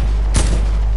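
A single sharp sniper rifle shot cracks out in a video game, one loud brief report over a steady low droning background, with no voices.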